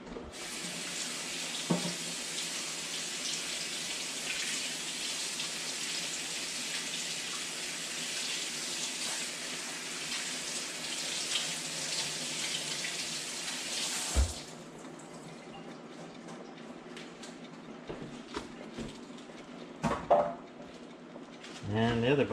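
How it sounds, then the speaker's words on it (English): Kitchen tap running steadily as baby bok choy is rinsed under it, a constant close water hiss that stops abruptly partway through, followed by light clatter and handling noises; a voice is present. "sometimes you find that the inside needs to be washed a bit."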